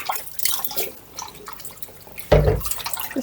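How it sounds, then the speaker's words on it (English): Water sloshes and drips briefly, then a louder splash and swirl as parsley is dunked into water close by. "Just a wee dip in the water."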